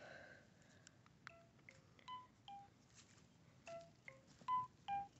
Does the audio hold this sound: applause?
no